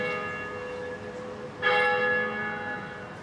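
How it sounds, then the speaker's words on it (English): Church bells ring as a full peal in a sound installation. A sustained ringing hangs in the air, then a fresh, louder strike lands partway through and slowly fades as it echoes. "maybe you trigger the full bell peal and then it rolls forward"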